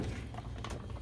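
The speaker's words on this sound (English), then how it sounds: "I'll run it through the salad spinner" A salad spinner whirring as it spins freshly rinsed, purple-dyed yarn, giving a quick mechanical rattle and whir close by.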